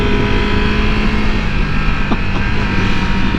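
A Triumph Tiger motorcycle engine drones steadily while riding, a loud, close, continuous rumble with wind noise and no pauses.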